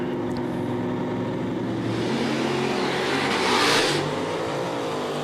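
Drag race cars, including Jeff Doré's yellow Mustang, launching side by side at a drag strip, a loud sustained roar of engines that swells briefly as they accelerate away.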